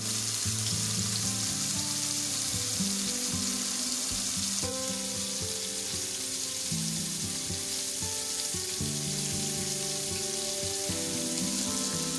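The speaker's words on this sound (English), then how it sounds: "Now let's put these shrimp on up in here and let's get to cooking." Shrimp frying in avocado oil give a steady, loud sizzle that runs unbroken and close throughout, with faint clinks of stirring underneath and no talking.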